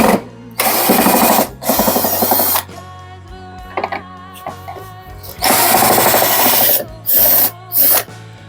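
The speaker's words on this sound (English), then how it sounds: "We have to unscrew." A power tool unscrews screws from a Samsung dryer motor in short, loud whirring bursts separated by pauses, with faint clicks and handling noises in between.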